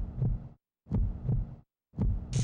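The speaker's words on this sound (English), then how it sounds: "can I not have to wait through this obnoxiously long boss intro with heartbeat noises?" Heartbeat effect from a Mega Man X6 boss intro, three heavy, booming low double-thumps in a slow, even rhythm, separated by dead silence, loud and alone.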